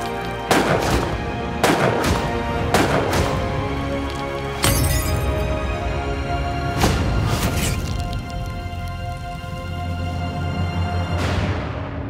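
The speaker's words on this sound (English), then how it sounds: "shots hit Bugsy Siegel, two in the head and two in the upper torso" Reenacted mob hit with a burst of gunshots: several sharp, loud cracks in quick succession, then more shots mixed with breaking and shattering sounds over dramatic music.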